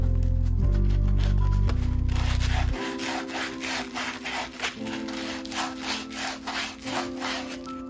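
Sanding the burr off the edge of an aluminium bicycle seatpost, a rhythmic back-and-forth rubbing scrape repeating steadily close up, following a loud low mechanical hum at the start.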